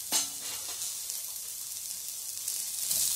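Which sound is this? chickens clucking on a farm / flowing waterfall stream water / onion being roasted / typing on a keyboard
onion being roasted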